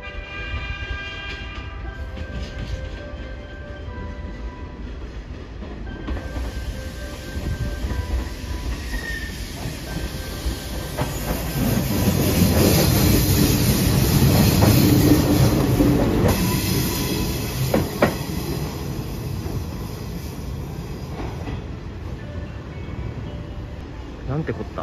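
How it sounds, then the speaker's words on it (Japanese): A Hanshin Railway out-of-service train passes through Mikage Station, a loud rumble that swells toward the middle and fades with rail noise and a brief horn, while station ambience and faint talk continue around it. "回送電車は僕知らなかったんですが、急に来たのでびっくりしましたよ。"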